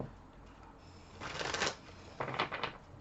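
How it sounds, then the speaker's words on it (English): Two quick bursts of tarot cards being riffled and shuffled close by, with a short pause between them, in an otherwise quiet room. "I'm going to give it a really good shuffle."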